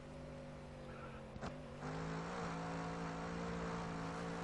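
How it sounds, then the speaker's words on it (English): A race car at Brands Hatch in GRID Autosport spins its wheels, giving a steady, droning engine tone whose pitch shifts and swells as grip is lost and the revs rise, close and continuous. "Bit of wheel spin out of there"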